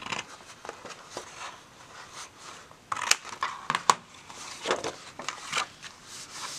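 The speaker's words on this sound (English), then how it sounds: "I'm going to take my scissors and I'm going to cut a slight angle right here." Scissors snip through paper in a series of short, crisp cuts, irregularly spaced, close to the microphone with no talking.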